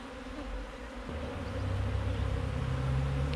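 Wild bees buzzing around a hive built inside a tire in Trinidad and Tobago, a close, continuous droning hum that swells louder partway through and holds steady to the end, with no speech.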